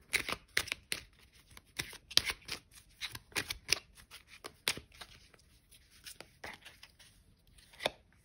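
Tarot cards being shuffled for a reading, with a quick series of crisp riffling and slapping bursts, close and fairly quiet, with short pauses between bursts.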